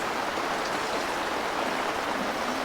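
Rain falls outside at a campsite as a dense, steady hiss, loud and unbroken throughout with no distinct drops and no voices.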